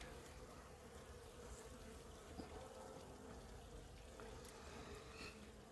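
Honeybees buzz around an opened hive late in the day, a faint, continuous, swarming drone with a few individual bees passing close.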